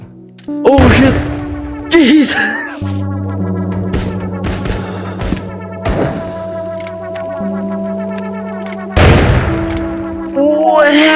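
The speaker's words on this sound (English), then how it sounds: "Why did I explode?" Explosion in the VR shooter game Into The Radius: a loud, sudden blast with a booming low end, followed by tonal game effects and further heavy thumps, with a voice talking over parts of it.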